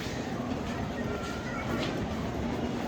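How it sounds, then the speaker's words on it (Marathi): A steady low rumble of a train at a railway platform in Mumbai Central station, with faint rail clatter, fills the whole stretch without a break. "5 नंबरवर ट्रेन येईल तर पटकन आम्हाला चढायला लागणार."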